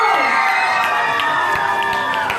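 A school crowd cheers, shouts and applauds loudly after a grand prix is awarded to a class at a festival, with children's voices whooping in a dense, continuous roar.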